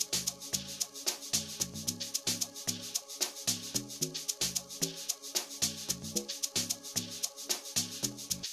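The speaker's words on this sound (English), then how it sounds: "So my next instrument that I've used here are the soft log drums," Soft amapiano log drums built in Caustic 3 roll out as a bouncy sequence of round, pitched low thuds over crisp hi-hat ticks and a faint chord bed, evenly paced and clear with no voices.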